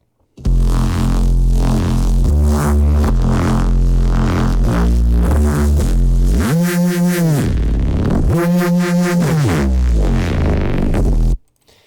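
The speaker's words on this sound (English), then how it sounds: "a new Reese Bass preset I've done in Bitwig's Polymer" A thick, detuned Reese synth bass from Bitwig's Polymer synth drones and growls with a wide, phasing texture, sustained notes shifting in pitch, loud and alone with no talking.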